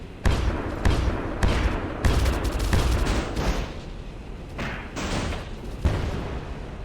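Flak cannon on a spacecraft in the video game Project Genesis fires a series of heavy, shotgun-like blasts at irregular intervals, each a sharp, loud bang with a short decaying rumble.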